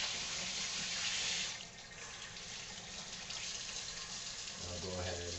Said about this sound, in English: Rinse my hands off because you can see they're full of spice now